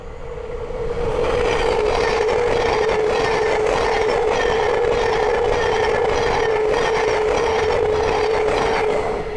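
A Class 700 Thameslink electric train running from Brighton to Cambridge passes at Great Wymondley on the East Coast Main Line, producing a loud, sustained rolling roar with a steady hum and rhythmic clatter from close by.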